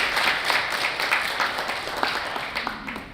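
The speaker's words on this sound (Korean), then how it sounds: "교수님께 다시 한번 큰 박수 부탁드리겠습니다." An audience claps for a professor after a health lecture on sleep apnea, a sustained dense round of applause from a crowd indoors that fades slightly toward the end.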